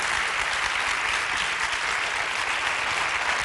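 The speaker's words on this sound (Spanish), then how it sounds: "Podeu aplaudir, eh?" Studio audience applause on a televised Catalan debate programme, a dense, steady wash of clapping filling the whole stretch at even loudness with no voices on top.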